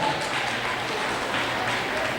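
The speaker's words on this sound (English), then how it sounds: "give yourselves a round of applause for being as beautiful as you are" Audience applause from a gathering of young men and women: a dense, continuous wash of clapping that holds evenly for a couple of seconds, fairly loud and close.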